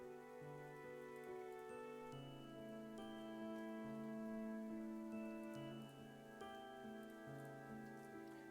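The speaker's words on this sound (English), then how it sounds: "I choose to listen to the rain, how the soft pitter-patter of the droplets land on top of my..." Soft rain patters steadily in a video game, heard as faint, even droplet ticks beneath a sustained musical tone that holds throughout.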